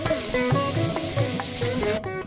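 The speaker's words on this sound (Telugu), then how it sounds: "తరువాత ఆలుగడ్డ ముక్కలు వేసి కొంచెం వేగనివ్వాలి" Potato pieces frying in ghee and oil with cardamom, cinnamon and cloves for masala aloo fried rice, a close, continuous sizzle with repeated scraping stirs and clinks, then a brief drop-off at the end.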